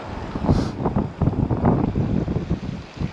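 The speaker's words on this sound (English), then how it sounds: "It's a little windy over here, so I think the wind is coming at me this way" Wind blows outdoors at a fishing spot, buffeting the microphone with a steady rough rumble and gusty surges for a few seconds, with no voices.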